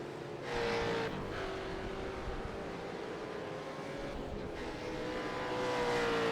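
Race car engine in the iRacing simulator during a Supercars championship round at Silverstone, a steady roaring drone with a rising pitch whine, sustained and fairly loud without talk.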